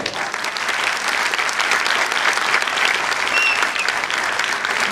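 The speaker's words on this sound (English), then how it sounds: "you will need to clap very loudly" A school annual concert audience claps loudly and steadily, a dense wash of applause filling the hall for several seconds.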